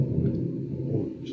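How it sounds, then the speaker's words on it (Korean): Low thunder rumbles steadily outside a recording studio, a deep continuous roll filling the whole moment with no voices over it. "녹음실에 천둥이 들어오는."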